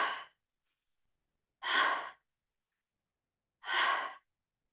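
Three deep, audible breaths spaced about two seconds apart during a yoga flow, each a soft airy exhale or sigh heard close, with silence between them.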